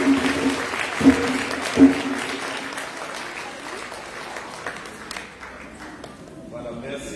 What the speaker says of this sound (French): Alors on va encore applaudir pour lui.